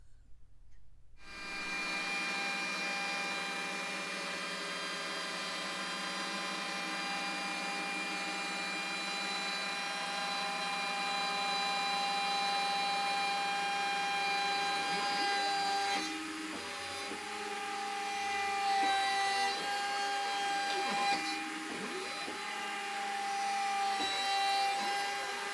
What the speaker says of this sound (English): finishing the profile with the 8mm downcut spiral cutter